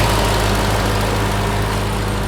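A supercharged car engine idles loud and close, a steady low rumble with a constant throbbing hum and no talking over it.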